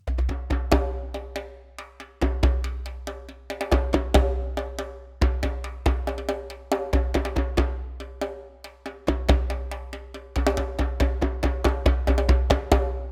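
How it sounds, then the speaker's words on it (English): Solo djembe hand drums play a lively rhythmic pattern of sharp slaps and deep bass tones over a low sustained drone, close and fairly quiet. "And you can get a sound like this with only solo Djembes."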